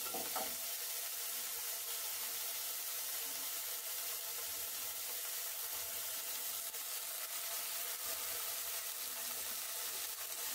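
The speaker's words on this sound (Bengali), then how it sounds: "দিয়ে সেটিকে ভালো করে পেঁয়াজ দিয়ে, রসুন দিয়ে, যা যা ভাজা হয়েছে সেগুলোর সাহায্যে ভালো করে আমি মিশিয়ে নিলাম।" Vegetables being mixed into fried onion and garlic in a pan produce a constant soft sizzle with faint scraping from stirring, quiet and even throughout, with no voices.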